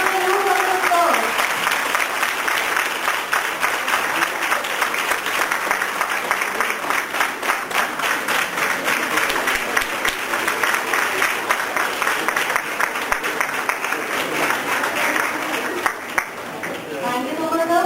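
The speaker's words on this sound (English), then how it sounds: "Please give him a huge round of applause." Sustained applause from a conference audience at Biyani College greeting a guest called to the stage, dense clapping filling the whole stretch, loud and close, with a voice faintly over it near the end.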